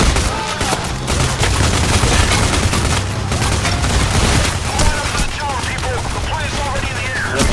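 Gunfire in the video game Payday The Heist, a dense, continuous barrage of rapid shots and clattering bursts at loud, steady level throughout, with overlapping weapons firing close by and no pauses.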